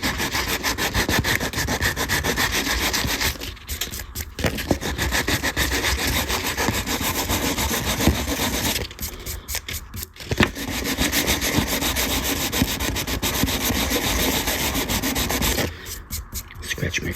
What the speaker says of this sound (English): So I'm using a scrap of wood and some 220 grit.